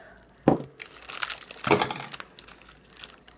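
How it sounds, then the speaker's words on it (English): Candy wrapper crinkled and pulled off, with two sharp crackling bursts followed by lighter rustling and crinkles, close and fairly quiet with no talk. "Trying to get the wrapper off."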